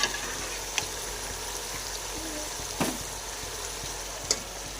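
Chicken sizzles and fries in masala in a pan for chicken pulao, a soft continuous crackle broken by a few sharp ticks of stirring, with no talk.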